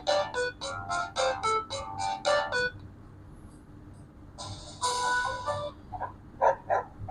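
Dog sound effects previewed in a video app: a quick run of about eight sharp barks, a pause, then a longer yelp or howl and a few more scattered barks, moderately loud with no talking.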